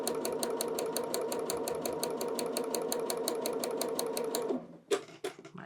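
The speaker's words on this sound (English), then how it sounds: "sew on the line. It's for me. Sewing on the line." A sewing machine stitching along a marked line during quilt block piecing, a steady rapid needle rattle for several seconds before it stops, followed by a few faint handling clicks.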